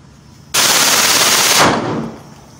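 A gun empties a magazine in one loud, close, continuous burst of rapid fire that lasts about a second, then fades into the echo.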